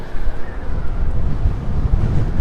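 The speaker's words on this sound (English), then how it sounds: "it's super windy over here, so I apologize if you pick up some of the noise." Strong wind on a high observation deck in New York City roars and rumbles across a microphone, a loud continuous low buffeting with no speech.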